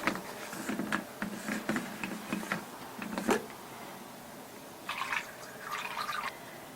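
Water poured into a flower arrangement with zinnias, producing faint, soft splashing and trickling in short bursts with pauses, quiet and close.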